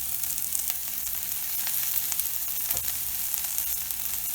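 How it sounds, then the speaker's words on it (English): Spinach sautéing in a pan over medium-high heat, a steady soft sizzle and crackle with occasional stirring ticks, fairly quiet and close, with no voices. "we're going to just saute up some the spinach and get it just nicely"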